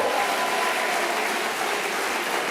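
Crowd in a hall applauding elected officials at a political rally speech in Aigues-Mortes, a dense, steady wash of clapping hands throughout with no break.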